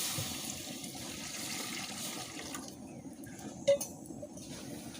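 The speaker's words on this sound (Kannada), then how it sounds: "ಇವಾಗ ಅದಕ್ಕೆ ನೀರು ಹಾಕೊಳ್ತಿದ್ದೇನೆ" Water runs and splashes steadily into a pan on the stove for a few seconds, followed by a brief clank near the end.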